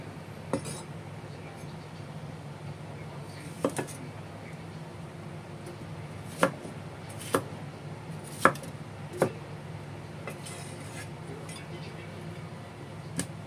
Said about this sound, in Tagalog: Slicein natin ang colored pepper